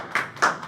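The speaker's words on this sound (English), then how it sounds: "Everyone give yourself a round of applause." Brief scattered handclaps from a small group at a meeting, a few quick bursts of clapping in a quiet room, fairly close and moderately loud.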